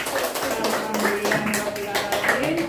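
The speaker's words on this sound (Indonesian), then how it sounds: "tepuk tangan untuk kita semua." Schoolchildren applaud in an Indonesian classroom at the end of a lesson, a brief patter of scattered claps mixed with voices talking over it.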